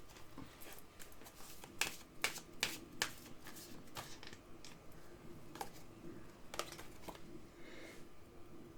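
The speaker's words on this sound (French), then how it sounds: "je vais quand même retirer une carte" Tarot cards shuffled by hand and drawn from the deck, a faint run of soft riffling flicks and quick papery snaps in an otherwise quiet room.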